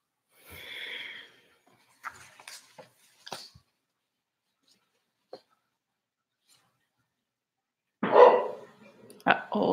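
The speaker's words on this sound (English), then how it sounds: "Oh, there goes my dog." A dog indoors lets out scattered snorts and short sounds, then a louder burst of barking near the end, nearby and intermittent with long quiet gaps.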